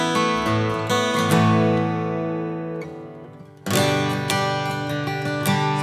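Kazuki Exotic Series Transacoustic acoustic-electric guitar with phosphor bronze strings, played unplugged: rich strummed chords ring out and slowly fade, then a fresh bright strum sustains, close and clear with no talking.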